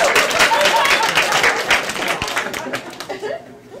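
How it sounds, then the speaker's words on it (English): Comedy club audience applauding and chuckling, a loud dense patter of clapping with scattered laughter that thins and fades out near the end. "I think I deserve a bit more applause."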